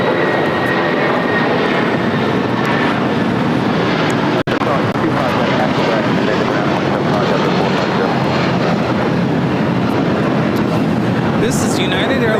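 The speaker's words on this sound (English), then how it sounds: "This is United Airlines 1260 taking off to Denver, Colorado on a 757-300." A United Airlines Boeing 757-300 departing LAX for Denver roars through its takeoff roll, a loud, sustained broadband jet rumble that stays strong for the whole stretch.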